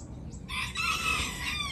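Serama chicken, the smallest chicken breed, crowing once close by, a shrill nasal crow that rises then holds, alone with no talk.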